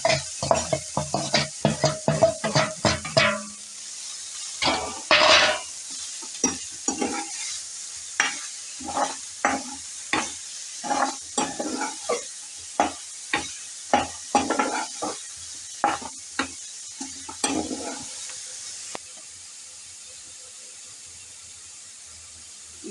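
Paneer is stirred in a hot kadai over a low flame, with rapid scraping strokes at first, then slower regular stirs over a soft sizzle that fade near the end.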